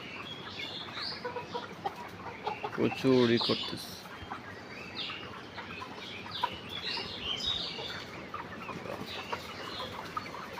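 Layer hens cluck throughout a hot poultry shed with fans running, a busy low chatter with one louder squawk partway through, under a voice.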